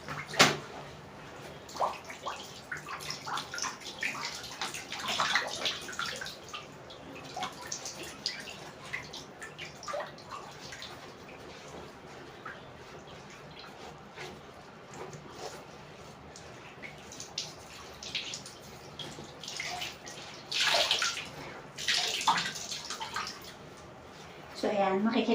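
Cross stitch pieces are hand washed in water, giving soft splashing, dripping and sloshing sounds through the clip, with a few louder splashes near the end.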